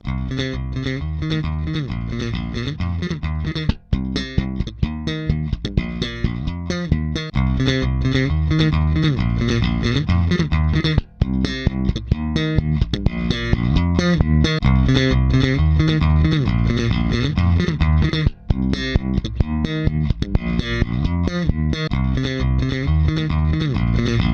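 Heavily processed electric guitar through a Sonicake booster compressor pedal plays a steady, compressed riff with a thick, sustained tone, continuous and loud throughout with only brief breaks between phrases.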